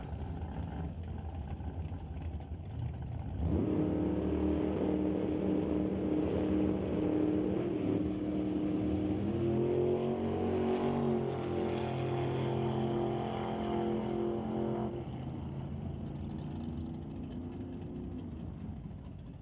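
Drag racing cars launching side by side off the tree at a Doorwarz test and tune event, a loud sustained engine roar rising and holding with harmonic whine before fading away.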